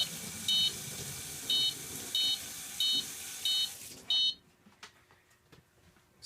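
A water leak sensor's high electronic beeper sounds six times in short, evenly spaced pulses over a low hum, then stops, leaving faint background noise.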